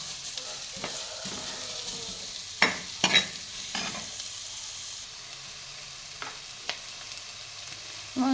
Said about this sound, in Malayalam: ഇതിലേക്ക് സവാള ഇട്ടിട്ട് ഗായ്സ് നമ്മളിതൊന്ന് ഒരു വാടി കിട്ടട്ടെ.